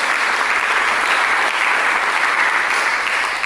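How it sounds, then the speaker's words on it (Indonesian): A church congregation claps in sustained, dense applause at an even level throughout, with no talking over it. "Mari berikan tepuk tangan bagi Yesus."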